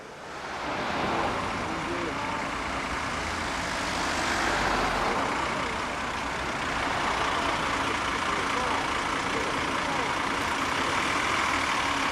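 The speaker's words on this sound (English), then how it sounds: "the crowds were beginning to inhibit the traffic flow on the A23" Traffic on the A23 in London on the final day of Routemaster service in 2005, with buses rumbling and idling amid a crowd, a continuous dense roar with murmuring voices throughout.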